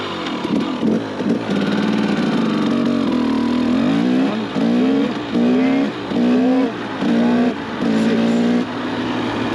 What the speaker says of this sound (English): we can shift through all the gears all the way to 6 on very low RPM and see how this bike feels down low